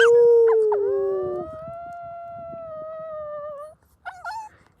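A single dog gives a long, steady howl that slides downward, followed by a short pause and a couple of brief yelps.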